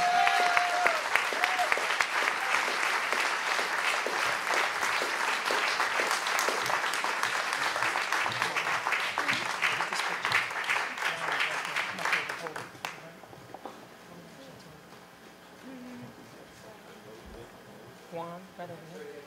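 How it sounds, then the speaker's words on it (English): Audience at a gala award ceremony honoring a pastor claps loudly and steadily for about twelve seconds, then the applause cuts off, leaving quiet room tone with faint voices. "Come on, clap your hands as we give this award in honor of Pastor Tyrone Kreider"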